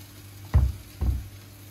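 Stuffed zucchini filled with chicken sizzle in a hot frying pan, two short bursts of crackling frying close by, each swelling and fading as the pieces are set down to brown underneath.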